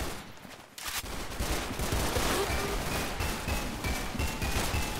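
Gunshots in the Roblox shooter Arsenal: dense, continuous rattling gunfire that starts after a brief lull and keeps going as a loud, busy barrage.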